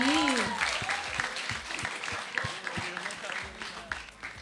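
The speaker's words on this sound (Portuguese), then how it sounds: "Vamos lá, palmas pra ele." Quiz audience clapping for a contestant who answered correctly, a brief round of applause with voices talking over it, fairly close and lively.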